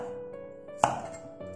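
A single sharp knife chop through small home-grown carrots lands on a cutting board against a quiet humming kitchen background, one crisp strike in a brief moment.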